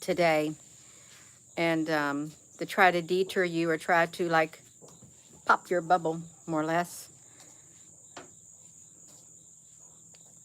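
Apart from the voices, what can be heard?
crickets chirping outdoors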